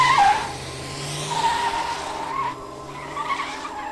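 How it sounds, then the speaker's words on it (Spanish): Two cars at a street drag race screech their tires and rev their engines, a sharp squeal opening loud and close, then wavering engine and skid tones trailing off over several seconds. "ambos carros rechinaron los neumáticos,"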